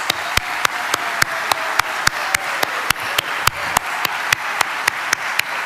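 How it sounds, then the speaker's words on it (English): Audience applause at the 2024 Brownsville State of the City address, honoring the mayor's wife Robin and their children. A steady, sustained round of clapping with sharp regular hand claps standing out over the crowd's wash. "Please help me give my wife, Robin, and our children a round of applause."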